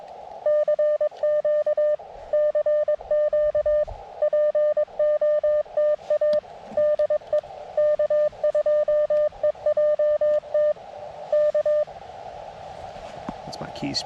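Morse code CQ call keyed on an Elecraft KX2 QRP radio, a clear sidetone beeping in rhythmic dits and dahs for about twelve seconds, then receiver hiss; a voice is faintly present.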